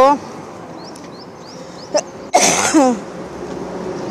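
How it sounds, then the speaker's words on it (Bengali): One person coughs sharply and harshly at close range, a single strong burst in the middle, with a voice speaking briefly before it and right after it. "দেখছো কি কাশি, বাপরে!"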